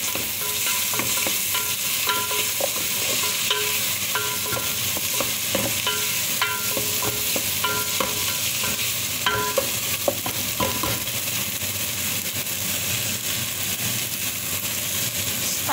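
Tomato and vegetables sizzling steadily in a pan for a Middle Eastern fish salona, with repeated clinks and scrapes of a stirring utensil during the first ten seconds.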